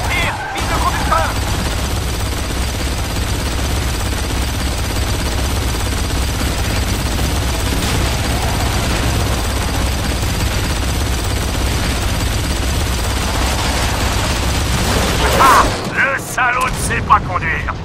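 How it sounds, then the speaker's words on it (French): Sustained gunfire rattles through a combat scene in BlackSite set in Iraq, a dense, continuous barrage with booms and cracks layered in, and a few louder bursts near the end. "Tire! Vise le conducteur!"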